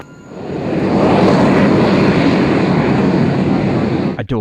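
A de Havilland Vampire jet roars on takeoff from runway 20. A broad, loud engine rush swells within the first half-second and holds steady, then cuts off in a few choppy bursts at the end.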